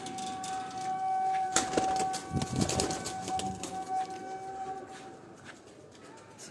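Pigeons perched together in a loft, with soft cooing and rustling amid steady background hum and a steady whistle-like tone, punctuated by a louder flurry of movement midway.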